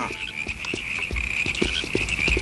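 Several cartoon frogs croak at once in a busy, overlapping chorus of short throaty calls, loud and close, with no talking.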